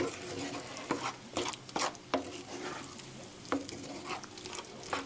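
A spoon stirs tomato sauce simmering in a pan for a rice bowl, soft bubbling and sizzle under a series of sharp scraping strokes against the pan at an uneven pace.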